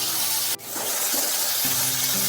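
Green beans fry in a pan over a medium gas flame, giving a loud, continuous sizzling hiss that briefly dips once before resuming, with a faint steady hum later.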